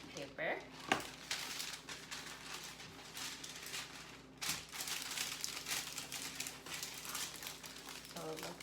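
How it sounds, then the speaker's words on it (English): Parchment paper crinkles and crumples as it is pressed into a baking pan, with a steady rustle of handling running throughout and a few sharper crackles, close and fairly loud. "I'm gonna line my pan with parchment paper."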